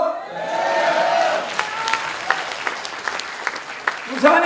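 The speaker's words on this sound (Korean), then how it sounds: "조경태 조금 박수 받을만 하지 않습니까" A crowd at a political party rally bursts into applause, with cheers and shouts mixed in at first, then thinning to scattered louder claps before a voice returns at the end.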